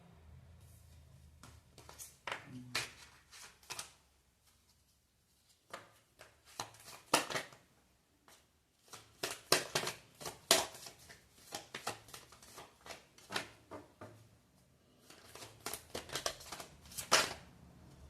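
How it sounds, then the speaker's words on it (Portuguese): Tarot cards being laid down and handled on a table, close, with irregular bursts of crisp slaps, shuffles and rustles separated by brief pauses. "Vou colocar essas cartas pra cá."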